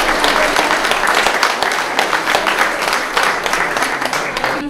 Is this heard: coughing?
no